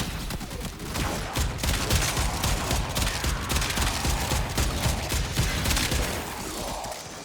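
Rapid, dense bursts of Boar Prime shotgun fire in the video game Warframe, loud and continuous for several seconds amid chaotic combat noise, tapering slightly at the end.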